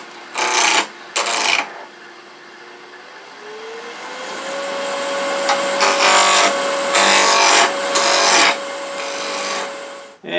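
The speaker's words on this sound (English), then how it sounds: "I use a spindle roughing gouge, never to be used on a bowl, anchored against my hip" A spindle roughing gouge cuts wood spinning between centers on a lathe, giving repeated harsh scraping bursts over the lathe's steady motor hum. The hum rises in pitch as the lathe speeds up.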